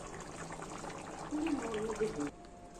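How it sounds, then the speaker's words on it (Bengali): Mutton curry with bubbling gravy poured into a pressure cooker, a soft liquid slosh and trickle swelling for about a second before stopping, with faint kitchen background. "প্রেসার কুকারের মধ্যে ঢেলে দিব।"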